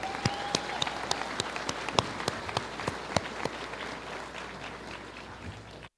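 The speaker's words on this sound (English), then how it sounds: "Let's have another round of applause for the talented drum line." Graduation audience at El Dorado High School applauding the drum line, a steady wash of many hands clapping with a few sharp nearby claps standing out, sustained and then cutting off.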